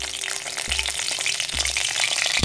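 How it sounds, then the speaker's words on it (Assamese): Two dried chillies frying in hot oil for a traditional Assamese jute-leaf curry, a steady close crackling sizzle with a few louder bubbling bursts. "তেল গৰম হৈ গৈছে আৰু আমি শুকান জলকীয়া দুটা দি দিওঁ"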